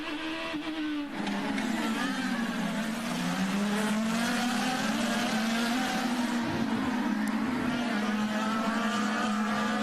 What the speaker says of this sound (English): Power to the inside of Alex Tagliani, and Will Power takes that spot